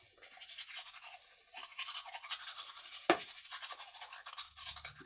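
A toothbrush scrubs a denture with rapid, bristly strokes in uneven bursts, fairly quiet and close, broken by a sharp click of the plate partway through.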